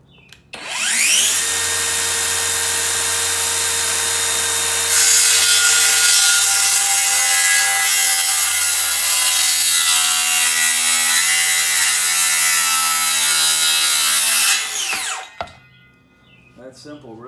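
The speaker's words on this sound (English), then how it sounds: "I'm going to use that circular saw" A circular saw cuts a board on the ground with a loud, steady high whine that runs unbroken for about thirteen seconds and then spins down abruptly.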